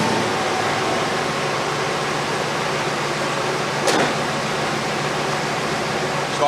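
A 1989 Chevy K5 Blazer V8 with a newly fitted starter runs steadily and loudly at close range, a smooth broadband engine rumble with one brief sharper burst partway through.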